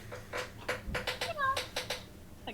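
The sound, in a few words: person imitating a cat's meow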